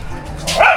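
A puppy gives a single short, high yip near the end, close and fairly loud over faint room noise.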